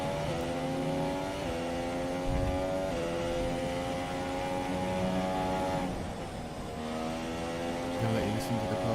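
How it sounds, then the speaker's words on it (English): A Formula 1 racing car engine in a video game drones steadily at high revs, with brief dips and rises as gears shift, continuous throughout. "Just going to let you listen to the car for the rest of this lap."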